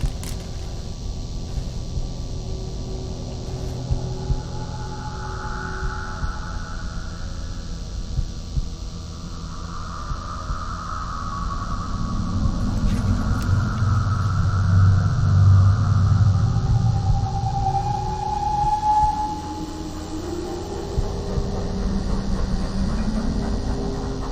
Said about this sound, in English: I can't help thinking this is the same train I kept hearing when I was playing Darkfall